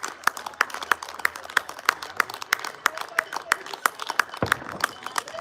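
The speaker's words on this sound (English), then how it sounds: "and we clap them" Neighbours stand outside their doors on a Thursday evening clapping to thank NHS workers, a few nearby pairs of hands beating out sharp, uneven claps over a quiet street.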